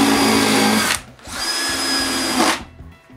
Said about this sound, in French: plus de solidité, je visse le tout